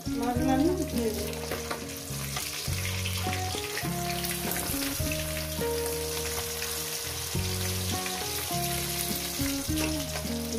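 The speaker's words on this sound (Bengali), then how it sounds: "এই করে আমি মাছগুলো একেবারে ভেজে নিয়ে ফিরছি" Pabda fish fry in hot oil in a pan, giving a dense, continuous crackling sizzle that stays close and steady throughout, with background music playing underneath.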